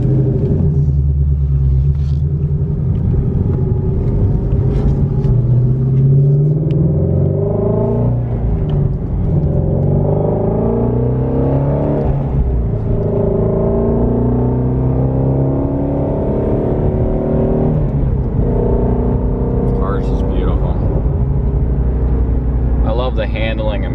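A 2017 Ford Mustang Shelby GT350 engine runs while driving: a loud, close, deep rumble whose revs rise and fall in smooth sweeps, continuing steadily throughout.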